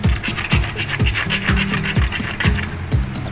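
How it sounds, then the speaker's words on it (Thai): A saw blade rasps back and forth in steady, regular strokes, cutting a groove with a gritty scraping sound, close and fairly loud. "ผมต้องใช้ใบเลื่อยนะครับ"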